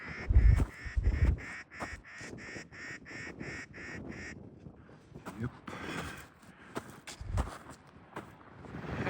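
A Clark's nutcracker gives a rapid series of harsh, nasal grating calls, then more scattered raspy notes, with some wind and handling noise nearby, on a ridge near Crowsnest, Alberta.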